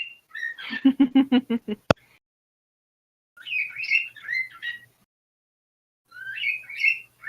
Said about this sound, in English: Yes, those are my birds. They're having a sing.